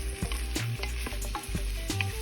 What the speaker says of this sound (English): we're gonna stir fry all this up, or saute all this up, get everything a little browned